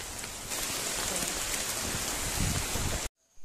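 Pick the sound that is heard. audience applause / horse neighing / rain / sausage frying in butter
rain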